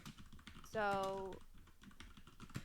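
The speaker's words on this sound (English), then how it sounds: "I'm hearing typing in the other room." Rapid, light keyboard typing clatters steadily in another room, faint and slightly distant, under nearby talk with a short sung or hummed tone in the middle.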